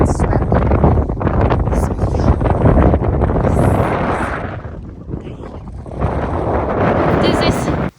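Strong wind on a trek to Shirui Peak buffets the microphone in loud rumbling gusts, easing briefly before surging again, with a voice speaking a word over it.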